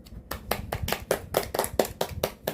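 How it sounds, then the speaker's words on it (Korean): A small group claps in distinct rhythmic bursts during a Sunday evening home worship gathering, roughly a dozen close, even claps following a brief quiet start. "박수."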